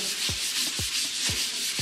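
Steady hissing sanding strokes on filler repeat in an even back-and-forth rhythm, close up, with soft low scrapes marking each pass and no voices.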